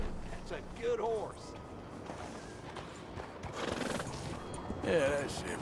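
A horse in the video game Red Dead Redemption 2 whinnies twice, once near the start and again near the end, with soft clip-clop of hooves and low ambient noise between.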